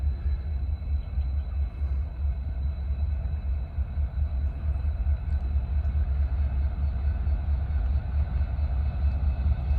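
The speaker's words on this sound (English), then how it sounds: "this will be my first time to ever catch a train going around the west leg of the Y here." A heavy, steady low rumble of a train rolling around the west leg of a railway wye, continuous and moderately distant, with no voices.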